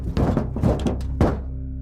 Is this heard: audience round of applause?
no